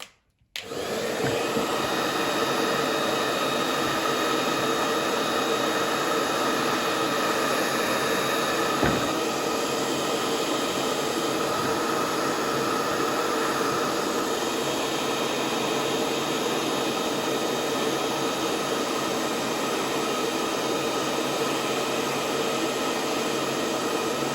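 A hair dryer blows a steady, loud whoosh for the whole stretch while heating a TPU gaiter fitted onto a Flex Hoof Boot shell, with one faint knock partway through and no voices.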